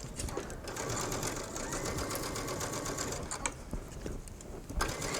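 A sewing machine runs a steady straight stitch along a two-part jacket sleeve, easing the sleeve head into the armhole, with a fast, even mechanical chatter that stays close and continuous from start to finish.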